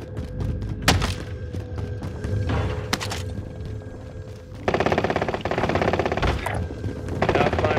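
Video game gun firing in quick bursts: sharp isolated shots early, then a rapid, rattling automatic stream, close and loud with mechanical clicks between volleys.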